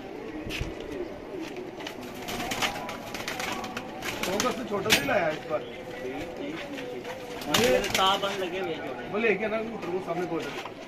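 Pigeons cooing in soft repeated bursts close by in rainy weather, mixed with general chatter and background voices throughout.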